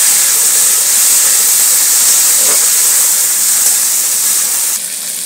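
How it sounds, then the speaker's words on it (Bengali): Tomatoes added to browned onions frying in a pan give a loud, steady close hiss of sizzling oil that holds evenly, then drops slightly near the end. "এখানে 2টো টমেটো কেটে রেখেছি, এইটা দিয়ে দিচ্ছি। দিয়ে টমেটোটাকে একটু দিয়ে ভাজবো।"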